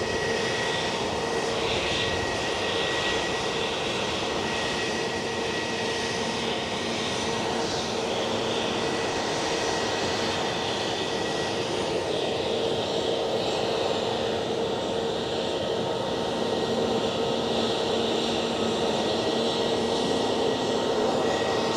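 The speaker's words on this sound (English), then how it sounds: "The inbound aircraft is a Lufthansa A321-200 from Frankfurt." A Lufthansa Airbus A321-200 arriving from Frankfurt at Edinburgh Airport, its jet engines a steady, continuous roar heard from a distance that holds for the whole stretch, with no talk over it.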